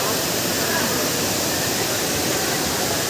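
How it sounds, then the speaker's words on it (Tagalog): A waterfall in Santa Maria roars in a steady, loud, unbroken wash of rushing water, close by and filling the whole moment. "Wow, ang ganda ng falls."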